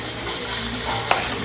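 Vegetables sautéing with onion in a pan, a brief steady sizzle with a single sharp utensil clink near the end, close and without speech.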